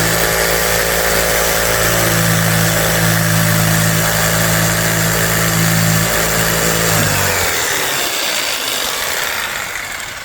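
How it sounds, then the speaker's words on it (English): Jigsaw cutting a notch in a camper cabinet for an electrical panel: loud, continuous motor buzz with a steady droning tone that cuts off near the end and leaves a fading rougher noise. "Cutting out the notch for the electrical panel, all that wiring. See if I can do it one-handed. A little one-handed jigsaw action."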